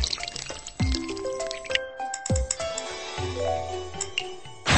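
Magical genie shower water effect in the Shimmer and Shine Genie Palace kids' game: bright dripping, sparkling liquid sounds with rising chime-like tones layered over a bubbly trickle, continuous for several seconds.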